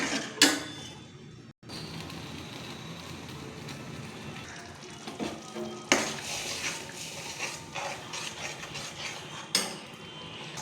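A spoon scraping and clinking against a pot as thick garlic curry is stirred, steady and close, with a few sharper knocks.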